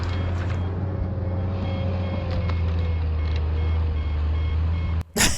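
A bulldozer working a logging site sounds its reversing alarm, a steady repeating beep over a loud low diesel rumble, ending with a brief dropout and a knock.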